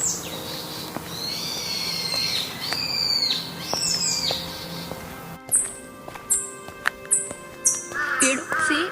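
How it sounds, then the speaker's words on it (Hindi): Wild birds call out in a dense, quiet forest, with scattered whistling cries and hoots, then a faster run of sharp repeated chirps near the end, moderately close over a soft background hum. "दूर कहीं जंगली पक्षियों की चीखें गूंज रही थी"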